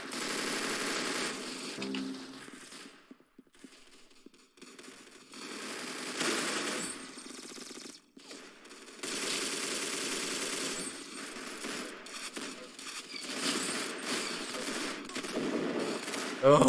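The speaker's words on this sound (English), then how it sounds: "This is a weapon from Halo. dual shotguns." Dual shotguns blasting in a Roblox Arsenal match, a loud, dense stream of rapid gunfire with brief pauses between bursts, filling most of the stretch.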